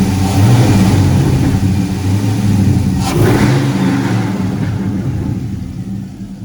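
A 1995 Chevrolet Caprice with a swapped 5.3 LS V8 and headers revs steadily nearby, a loud sustained engine drone with a brief throttle swell midway before easing off toward the end.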